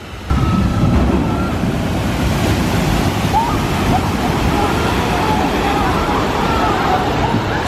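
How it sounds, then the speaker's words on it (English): Boat splashdown on the Jurassic Park River Adventure water ride, a broad steady roar of rushing, spraying water that holds loud and continuous throughout, with crowd noise blended in. "here's the splashdown"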